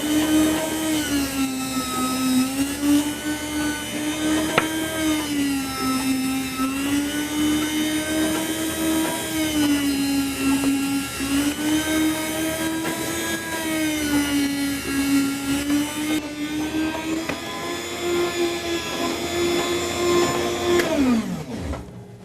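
Meat being sliced for whole muscle jerky by a machine gives a continuous droning motor hum with a slowly wavering pitch, loud and close, that winds down sharply at the end.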